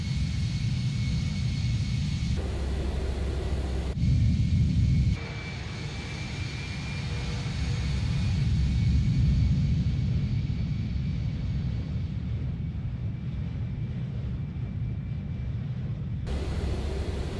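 An Embraer E175 jet airliner lands in Microsoft Flight Simulator, with a continuous loud engine roar and rumbling airflow that surges and shifts in level, and a steady high whine running through most of it.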